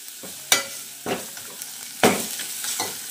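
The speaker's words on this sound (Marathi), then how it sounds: "आता त्याच्यामध्ये हळद, चांगलं जरा परतून घ्यायचं." Turmeric masala being sautéed in a pan over a low gas flame, soft sizzling broken by several distinct scraping stirs of the spoon, close and fairly quiet.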